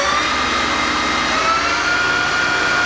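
A Clausing Colchester engine lathe spins in its high range at 1100 RPM, giving a steady, continuous mechanical whine with a tonal hum, close and fairly loud, with no talking over it.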